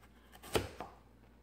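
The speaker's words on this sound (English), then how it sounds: "Vegetables are chopped" Vegetables for a boiled pork and vegetable soup are chopped on a cutting board, a single sharp knife strike followed by a softer second chop, close and quiet.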